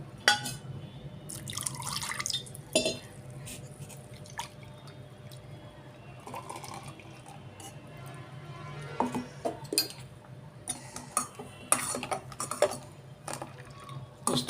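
Water poured into a vessel of ground curry leaf paste for tambuli, heard as soft drips, trickles and light clinks of the pot across the clip, close and fairly quiet, with no talking.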